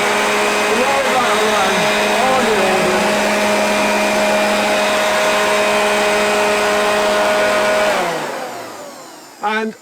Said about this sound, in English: I like to use my leaf blower